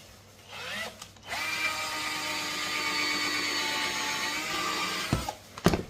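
A power drill bores into a wooden kitchen frame during a renovation, a steady, high, whining drone holding for about four seconds before cutting off, with faint handling knocks around it.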